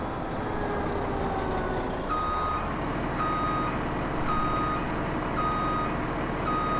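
A truck in Farming Simulator 17 sounds a steady, evenly spaced reversing beep, repeating about once a second over a constant engine drone.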